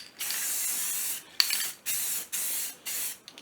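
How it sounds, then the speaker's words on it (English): A spray can hisses in several bursts, one long blast followed by three shorter sprays with brief pauses between them, close by. "Give it a little bit of spray right there."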